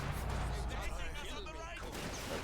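Heavy tank cannon fire from a Soviet KV-2 in the strategy game Company of Heroes 2, a loud booming blast within a dense, continuous battle din, heard under a commentator talking.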